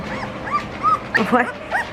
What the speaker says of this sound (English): Why are you whining?